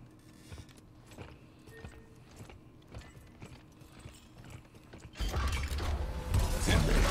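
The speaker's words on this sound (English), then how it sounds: "I'm getting the door now." Prison door in The Callisto Protocol, creaking and clanking mechanically in a slow rhythm of metallic knocks before a loud rushing surge of noise takes over near the end.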